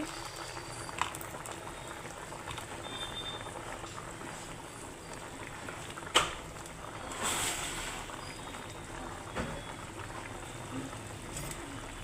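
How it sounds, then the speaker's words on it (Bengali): A pot of tilapia fish curry with potato and ridge gourd bubbles and simmers steadily nearby, a continuous soft boiling hiss with occasional small pops and clicks. "আর এখন আমি মাছগুলো দিয়ে দিচ্ছি"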